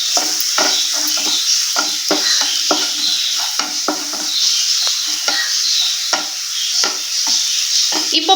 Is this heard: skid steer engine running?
no